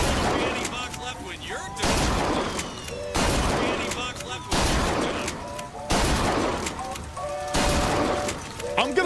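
Bursts of gunfire in the video game BioShock Infinite, loud volleys repeating roughly every second and a half with sharp impacts and shattering between them, someone talking over the shooting.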